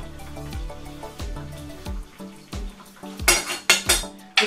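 A spoon stirring vanilla through cranberry sauce in a pot, with repeated close metallic clinks and scrapes against the pot, sparse at first and then louder, sharper knocks toward the end.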